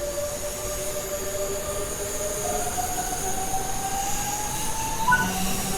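In Train Sim World 3 on the Bremen–Oldenburg line, a regional electric multiple unit built by Bombardier, Siemens and DWA pulls away with a steady rumble and a rising whine from the traction motors, with a faint wheel squeal, continuous and fairly loud.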